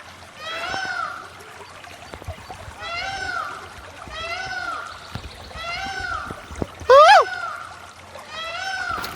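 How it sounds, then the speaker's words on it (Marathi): Peacocks call in a deep Sahyadri valley, a series of loud, wailing, drawn-out cries repeating about every second and a half, with a faint wash of flowing water behind them. "मोरही वरडत आहेत,"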